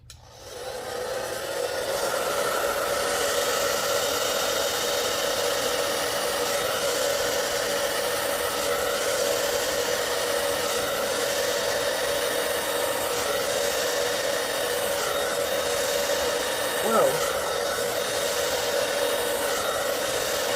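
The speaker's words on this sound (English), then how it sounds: "So we're going to use the Cool Air, using the Babyliss hair dryer," A Babyliss hair dryer runs steadily on cool air at low fan during acrylic paint pouring, a constant close whir with a brief small clink near the end and no talking.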